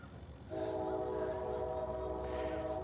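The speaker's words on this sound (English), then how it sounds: "There's the train whistle." A steady train whistle sounds after a brief rumble, holding a bright, sustained tone against low rail noise.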